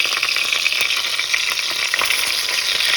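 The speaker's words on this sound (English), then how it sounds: "I'm gonna be frying the onions and the tomatoes." Onions and tomatoes frying in a pan at home, a steady loud sizzle with crackling spatter and occasional stirring throughout, with no talking.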